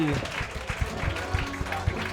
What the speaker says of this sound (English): Clap it up as loud as you can for Scott Chaplain.